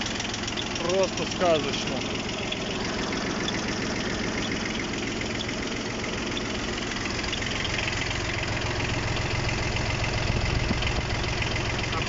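A mini tractor's engine idles with a steady, rumbling mechanical knock and vibration, running continuously while someone talks over it.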